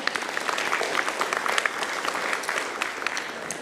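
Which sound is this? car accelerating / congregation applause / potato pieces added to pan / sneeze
congregation applause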